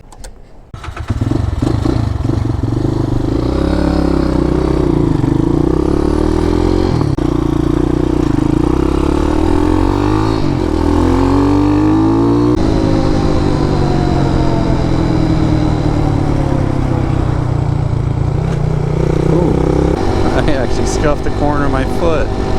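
Steady, close engine drone of a small motorcycle while riding, with the pitch shifting as it revs and changes gear, a voice talking over it.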